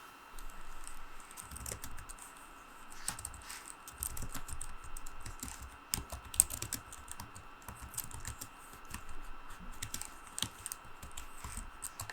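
Steady, soft clicking of a Gigabyte Aero 15 laptop keyboard, two years old, being typed at an even pace, close and fairly quiet, with no voices.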